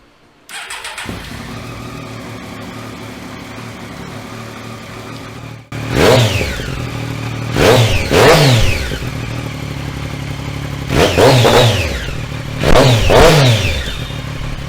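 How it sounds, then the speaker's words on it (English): A Triumph Daytona 675R motorcycle starts up and idles steadily, then a series of sharp throttle blips rev its engine hard four times, each climbing and quickly falling back to idle, loud and close. "So now let's check out how she sounds."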